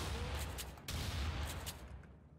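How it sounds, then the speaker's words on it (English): Gunfire in the video game Underhell, a dense run of loud shots and blasts, likely shotgun fire, packed across the whole stretch with one sharp break near the middle and a final crack at the end. "I love the bullet sound effects and everything, like when you shoot, like especially my shotgun"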